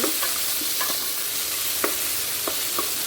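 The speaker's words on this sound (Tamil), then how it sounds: "நல்லா வதக்கணும். வெங்காயம் நல்லா வதங்கிச்சு." Finely chopped onions sauté in hot oil in a pan for paruppu sadam, giving a continuous close sizzle marked by a few sharp stirring scrapes, with no speech.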